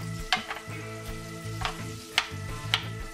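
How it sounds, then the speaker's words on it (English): Boiled potatoes are worked with an old-style hand masher, making about four soft, squelching presses at an irregular pace, close and fairly quiet. "So we'll mash them up real good"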